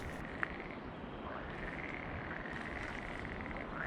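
Frogs croaking in a chorus at a pond, a continuous rasping trill at moderate distance over a soft outdoor background.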